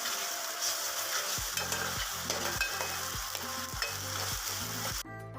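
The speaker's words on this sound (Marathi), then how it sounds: "आता यामध्ये मी आलं आणि लसूणची पेस्ट घालून घेते आणि छान मिक्स करून घेते" Ginger-garlic paste stirred into fried onions in a pan while making a spicy okra dish: a steady loud sizzle with regular scraping spoon strokes roughly every half second, close by and without speech.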